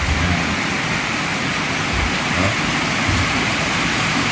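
Steady, heavy tropical storm rain pours down in a continuous loud hiss, with no voices and a faint low rumble underneath.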